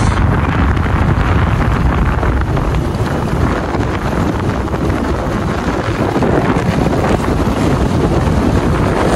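Steady, loud wind buffeting the microphone, a dense rumbling roar with no talking, continuous throughout, near Lusong Cold Spring in Cabadbaran City, Philippines.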